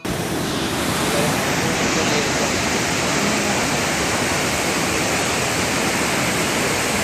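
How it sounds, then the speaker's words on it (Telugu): Water flowing in abundance makes a loud, steady, broadband rush that stays constant and close for the whole stretch, with no clear pauses. "పుష్కలంగా వస్తుంది వాటర్."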